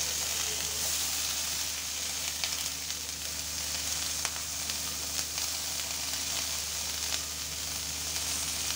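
Eggplant frying in a pan with onion stalks and green chilies gives a steady, close, even sizzle and hiss that holds unbroken throughout, with no voices.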